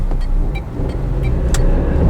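A small three-cylinder Vauxhall Agila drives along, its engine and road noise forming a steady, loud in-cabin drone with faint ticking and clicks layered on top.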